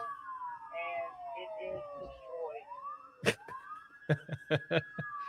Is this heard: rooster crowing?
no